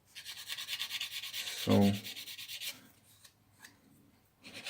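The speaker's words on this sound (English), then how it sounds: "sand it with the sanding stick" A sanding stick rasps against a small part of a Mitsubishi Zero scale model airplane, giving a close, rhythmic run of quick back-and-forth strokes for a couple of seconds before fading to quieter, scattered rubbing.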